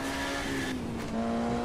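A steady, loud engine drone from a racing car in Automobilista 2 that holds one pitch, briefly drops, then carries on without shifting up as the gear fails to engage.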